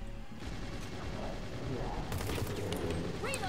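Rapid gunfire from a gun in the video game Hazrd Ops, a dense burst of shots over a low background rumble, with a brief sharper crackle near the end.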